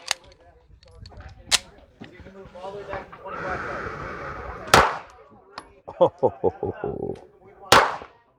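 Pistol shots from a SIG P210 or Smith & Wesson M&P 9 2.0 at an outdoor range, several sharp cracks spaced apart with a quick burst of close shots near the end, heard among talking voices.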